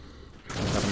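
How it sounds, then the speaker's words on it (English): A grenade explodes in a Call of Duty: Modern Warfare campaign firefight, a sudden loud broadband blast arriving midway after a quieter stretch and sustaining a dense rumble to the end. "Got him with the grenade."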